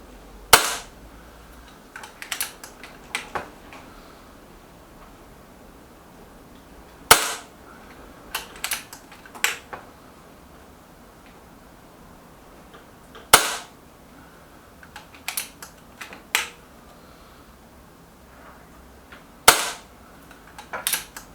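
An EB Arms XV2 air gun fires JSB pellets in four sharp, loud cracks spaced several seconds apart, each followed by a few lighter clicks and taps against quiet background.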